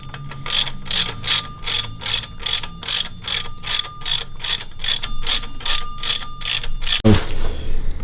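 Ratchet tightening the six flywheel bolts on a Ford Focus ST during a clutch install, a steady run of about twenty sharp rhythmic clicks close up, ending in a single heavy metallic clunk, no talk.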